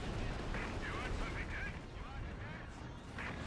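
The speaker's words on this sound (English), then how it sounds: "Enemy with light artillery." Light artillery fire in the strategy game Company of Heroes 2, booming shots and blasts packed densely through a loud, continuous battle din with a player talking over it.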